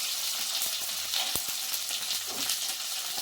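Onion, tomato and vegetables sizzle steadily in a pan for veg pulao, a close, continuous frying hiss with a few soft stirring taps.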